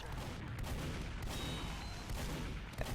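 Dense, constant barrage of bombing and gunfire in a video game battle, booming explosions and rattling shots layered loudly over one another for the whole stretch with no pause.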